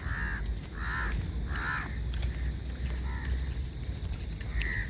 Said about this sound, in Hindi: कितने सारे पक्षी हैं, सारे पक्षी चिड़िया सब सुबह सुबह उठ जाते हैं 4 बजे।